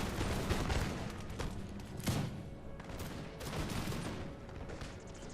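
Musket volleys crackle in a large Napoleon Total War battle between Russian and French lines in a video game, with dense overlapping rifle fire and a few louder shots popping out of a steady roar of distant gunfire.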